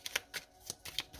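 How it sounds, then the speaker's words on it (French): Tarot cards being laid down and handled on a table, a handful of quick, soft, papery slaps and flicks at uneven intervals, close and quiet, with no talking. "Je vais mettre une carte sur le roi d'épée."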